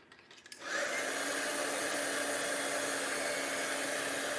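A handheld heat tool whirs on after a few soft clicks and keeps up a steady, loud blowing hum while heating paper craft pieces, with no talk.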